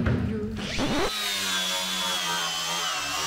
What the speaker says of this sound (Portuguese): pegar a lixadeira ali pra lixar